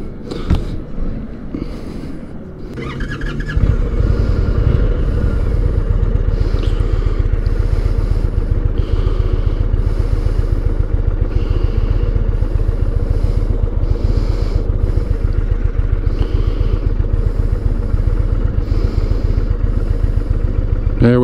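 An Indian motorcycle engine cranks and fires after a few seconds of handling clatter, then settles into a loud, steady, pulsing idle close by that runs continuously to the end.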